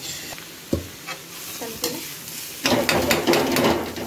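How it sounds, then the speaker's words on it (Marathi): Mixed vegetables being stirred and fried in a kadhai with a spoon, soft scraping strokes at first, then a louder, dense crackling sizzle with continuous stirring, close and without any talking. "इथं कढाईमध्ये छान सर्व भाज्या टाकून झालं"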